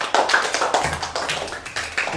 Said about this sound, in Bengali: সামের জন্য একটা হাততালি দাও।